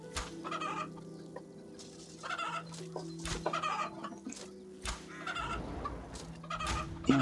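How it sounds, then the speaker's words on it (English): Chickens clucking in the RuneScape video game, a run of short game-sound clucks repeating every second or so at moderate level, with no talking over them. "here I am killing chickens to make those arrows."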